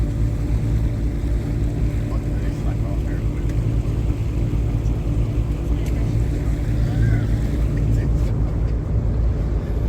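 A canal tour boat cruises through Copenhagen near Christiania, its engine a steady low rumble with water and wind noise beneath, continuous and close throughout.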